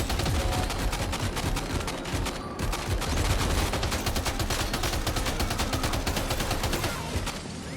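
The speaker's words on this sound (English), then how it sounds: "We'll go machine gun. Machine gun it is." Sustained machine gun fire at ghost mechs in Death Stranding 2, a loud continuous rattle of rapid shots with only a short break, dominating the scene.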